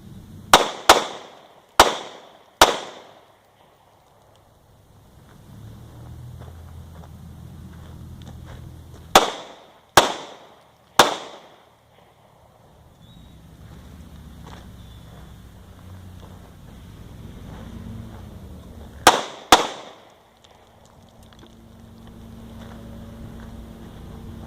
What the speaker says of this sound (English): Working on finding the dot. Here we go, live fire.